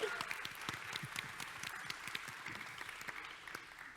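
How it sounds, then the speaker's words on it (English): Audience applause follows a call to welcome people at a presentation on developing apps and games for young learners, a steady spread of many hands clapping at moderate volume, with scattered sharper claps throughout. "So please give them a warm round of applause."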